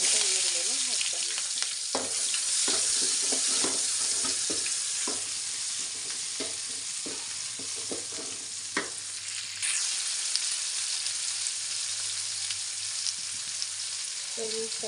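Chopped onions sizzle steadily in a hot pan, tipped in after other ingredients were fried, for a Karnataka-style sprouted-legume bassaru and palya. A continuous close hiss runs throughout, broken by scattered scraping and stirring knocks; no one speaks.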